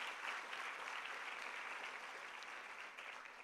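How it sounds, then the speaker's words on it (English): Steady, dense applause from a business workshop audience, a continuous crackle of many hands clapping, slightly distant and fairly quiet, holding evenly then easing toward the end. "let's give a big round of applause once again to Charlene and Shanela for a wonderful workshop"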